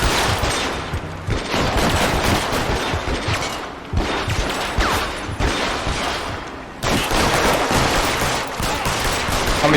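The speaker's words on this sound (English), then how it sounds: "How many times can I shoot him in the butt?" Sustained bursts of gunfire in the L.A. Noire video game, loud dense volleys with brief gaps between rapid shot sequences, close and overpowering throughout.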